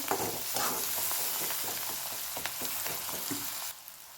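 Pav bhaji vegetables sautéing in ghee while being mashed, a soft continuous sizzle broken by repeated scraping and pressing knocks of a spoon, fairly quiet, with no talk.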